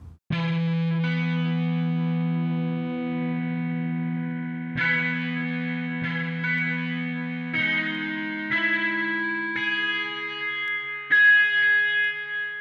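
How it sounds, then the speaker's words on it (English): Outdoor amphitheater reverb from the GAZE plugin on sustained synth-like tones, each new note blooming and lingering in a wide, airy tail, with no voices present. "listen to this outside reverb too. This is a kind of an outdoor amphitheater."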